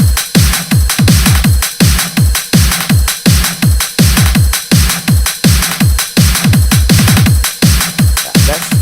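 A Eurobeat intro drum part pounds with a fast, driving four-on-the-floor kick, booming toms and dense bright hi-hats, loud and continuous with no voices.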